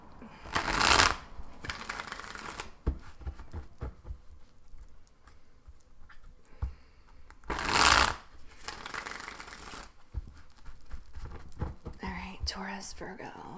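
Tarot cards being shuffled in two soft bursts of riffling and patter, separated by quiet handling noise and faint movement, close and low in level.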